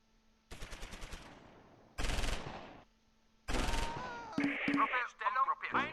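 Gunfire in the World War II tactics game Close Combat IV: several bursts of machine-gun and rifle fire, some loud and close, separated by short pauses, with sharp cracks and rattling at the end.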